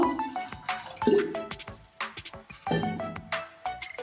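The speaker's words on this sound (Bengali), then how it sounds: "এবার এটাতে জল দিয়ে দিচ্ছি মিষ্টির রসটা বানানোর জন্য" Water poured into a pan to make sugar syrup for semolina gulab jamun, a close, uneven splashing and dripping with small clinks and knocks.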